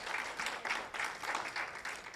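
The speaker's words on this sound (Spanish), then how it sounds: "¿cuántos podemos dar un fuerte aplauso al Padre?" A church congregation claps together in a short, moderately quiet burst of applause, the claps forming a dense, uneven patter that pulses slightly throughout.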